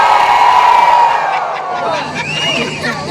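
A large live audience roars and jeers loudly all at once, with whistles and shouts rising over a dense crowd din that eases slightly but stays loud throughout.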